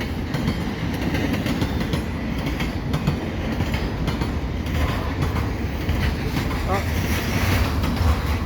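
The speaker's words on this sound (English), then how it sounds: "This looks like it's going to be an empty train." An eastbound CN intermodal freight train rumbles past near the Dorval airport ramps, mostly empty cars with some double stacks, giving a continuous loud roar with wheel clatter and faint squeals throughout.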